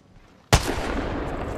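A Kraber sniper rifle in a video game fires a single loud, heavy shot with a long rumbling tail.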